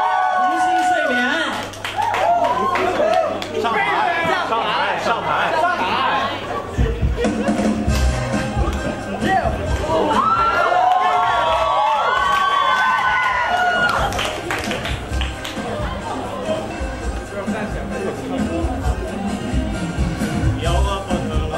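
Audience at a televised singing contest audition in Adelaide claps and cheers in bursts, with shrill shouts and a host's voice over the crowd noise before applause continues.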